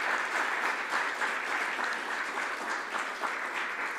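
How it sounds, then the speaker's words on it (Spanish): A church congregation claps together in a steady, close, fairly loud wash of applause that carries on evenly from start to finish. "démosle un aplauso a nuestro Señor."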